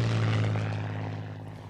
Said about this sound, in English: a World War II fighter plane came swooping down out of the sky